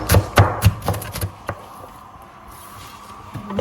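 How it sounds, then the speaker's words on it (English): A few sharp knife chops through shallots on a board, three quick ones in a row then a single stroke, followed by quiet kitchen background. "we are chopping some shallots to add a lot of flavors to our"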